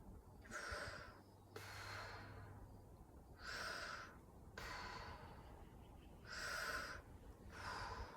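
Deep breaths during an exercise workout, about six strong airy inhales and exhales in a steady rhythm, close to the microphone with no talking.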